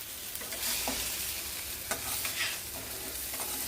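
Stuffed ridge gourd curry, cooked with chana dal and atta, is slowly stirred in a pan, giving soft scraping strokes over a steady low sizzle, close and alone.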